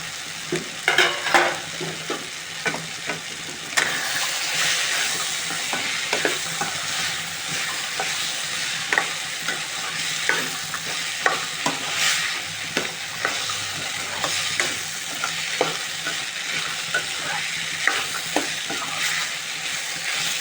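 Green peas curry is stirred in a hot pan, a spatula scraping and clacking repeatedly over a constant sizzling hiss, close and fairly loud, with no talking.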